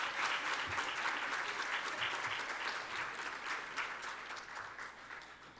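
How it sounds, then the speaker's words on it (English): Steady, dense applause from a large audience at a graduation ceremony, loud and continuous throughout and easing slightly toward the end, with no voices over it. "Let's give them another round of applause because they look good tonight."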